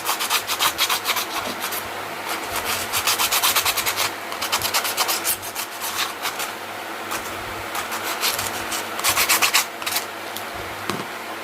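Emery paper rubs back and forth across the cut edge of a PVC pipe cap in a steady series of dry, scratchy strokes, close and fairly loud, with no talking.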